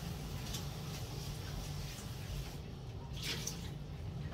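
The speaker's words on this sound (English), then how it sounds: "I'm rinsing the papitas." Potatoes being rinsed in water in a home kitchen, a faint, steady splashing and trickling with a few brief sloshes, quiet and continuous with no talking.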